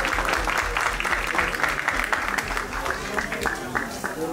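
A seated audience breaks into applause in a hall, a sustained wash of many hands clapping at middling loudness, with a little speech mixed in.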